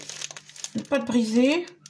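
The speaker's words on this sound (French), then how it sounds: "Je sors la pâte du paquet." Crinkling plastic wrapper of a packaged pie crust pastry being pulled open by hand in a kitchen, a short loud rustle over a speaking voice.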